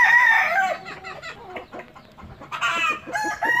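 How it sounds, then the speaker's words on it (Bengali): Fully grown desi hens on a chicken farm cluck and cackle close by in quick, uneven bursts, with several birds calling over one another. "আমার এইগুলো কিন্তু পূর্ণ প্রাপ্তবয়স্ক মুরগি"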